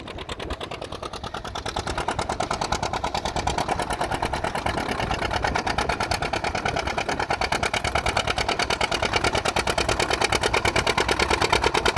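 Old tractor engines chug steadily up close in a long line of vintage tractors, including Farmall, John Deere and Massey, at a plow day, a fast, even mechanical pulse that holds throughout with no talking.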